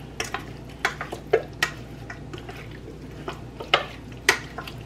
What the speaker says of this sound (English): So you just wanna mix it so that evenly coated.